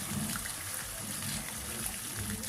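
Boiled water pours from a kettle into a pot while pasta is cooked, giving a steady, soft trickling and splashing that runs evenly throughout at a moderate distance.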